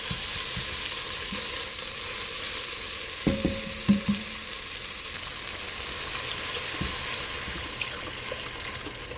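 Food browning in a pan before deglazing with stock, a continuous moderate sizzle with a couple of brief utensil clinks and knocks near the middle.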